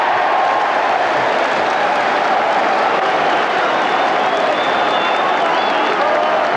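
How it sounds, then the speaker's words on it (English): A rugby crowd at a 1986 semi-final in Newport applauds and cheers after a successful conversion, a loud, dense wash of clapping holding steady throughout. "And it's the turn of the black and amber contingent in the crowd to clap loudly and cheer."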